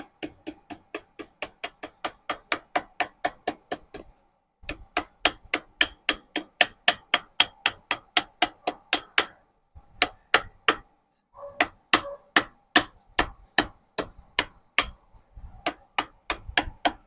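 A small hammer taps metal in quick, even bursts, each strike a bright ringing click, with short pauses between runs of blows.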